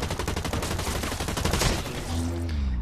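Rapid video-game gunfire as a full magazine is emptied in a fast, evenly spaced burst of loud shots that stops abruptly, followed by a brief low mechanical hum.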